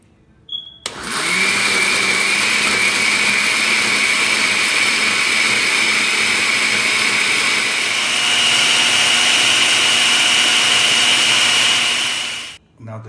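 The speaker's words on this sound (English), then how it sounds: "start blending now" A kitchen blender whirs steadily while pureeing a chili, ginger and garlic paste, starting abruptly, holding a loud, even motor whine for about twelve seconds, then cutting off.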